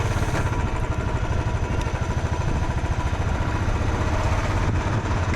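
Royal Enfield Classic 350 motorcycle idling steadily up close, a continuous low rhythmic engine thump with even loudness throughout and no voices.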